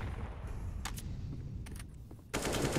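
Automatic AK rifle spray in a Counter-Strike: Global Offensive pro match on the Vertigo map, a few brief bursts of rapid shots followed by a loud sustained volley at the end, over steady game ambience.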